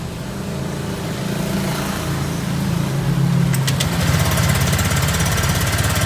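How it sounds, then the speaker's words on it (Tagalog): Honda Click 125 scooter engine, fitted with a PCX 150 cooling fan, running steadily nearby with a rough low drone that grows slightly louder partway through, with some clicking near the end. "paandarin natin ngayon yung motor natin"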